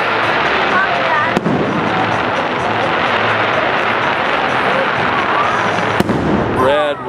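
Disney fireworks explode in a continuous loud barrage of crackling bursts and booms, with a couple of sharper cracks, heard close, while people talk and exclaim over the noise.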